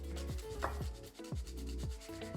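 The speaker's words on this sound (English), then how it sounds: "I'm also gonna be grating in some Parmesan into this egg mixture." Parmesan cheese is rubbed against a fine mesh grater in quick repeated rasping strokes, close up and fairly quiet, with no voices.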